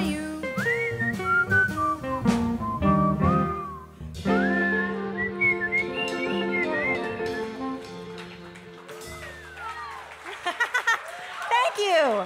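A person whistles a little tune, bright wavering melodic phrases that slide up and down, close and loud, with a stretch of higher trills near the end.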